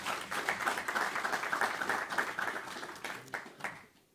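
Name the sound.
audience applause for a congregant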